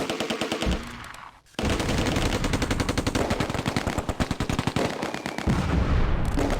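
Sustained machine gun fire from the Close Combat wargame, dense rapid bursts running almost continuously after a brief pause, loud and close with other gunfire mixed in.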